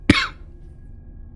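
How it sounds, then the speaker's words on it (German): A single harsh cough from a character in a Let's Play game bursts out close and loud, then fades into near silence. "Die ganze Zeit schon so ekligen Husten"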